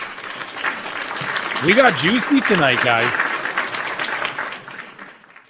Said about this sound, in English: Round of applause for the PWT universe.